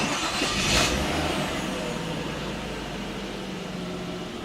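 A Mazda 626 engine fires up after a timing belt and water pump replacement, opening with a brief starter burst and then settling into a steady, even idle that hums close by without any talk.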